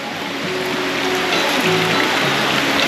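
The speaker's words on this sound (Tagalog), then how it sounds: "may ulan." Steady rain falls outdoors during a flooded construction job, a dense continuous hiss of drops on surfaces that fills the whole moment at an even, fairly loud level with no voices.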